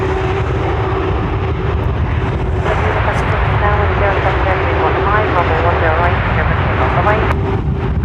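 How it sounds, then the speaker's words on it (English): A heavy jet airliner takes off from Dublin Airport's runway 10R with a loud, continuous rumbling roar, buffeted by wind noise on the microphone and shifting in tone as it climbs away. "The Ryanair will have to wait a few minutes now for after the heavy departure."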